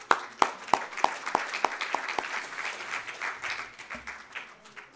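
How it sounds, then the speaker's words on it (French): Audience applause after a French lecture on the brain, with a few sharp, evenly spaced claps up front over a dense wash of clapping that gradually thins toward the end. "Et on peut les applaudir."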